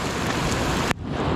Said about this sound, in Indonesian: Mantap, langsung disambut hujan Om Ade.